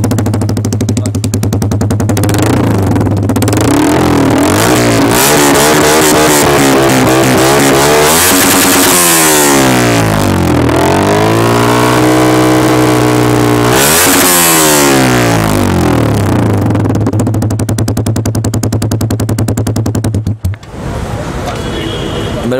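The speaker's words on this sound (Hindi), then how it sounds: "ये कार्बन फाइबर फिनिश में रेस फिट्स का एग्जॉस्ट है ये, सबसे बढ़िया।" A Yamaha R15 V3 motorcycle fitted with a Race Fit carbon fiber exhaust revs loudly and close, its engine note climbing and falling through repeated throttle blips before settling back to idle.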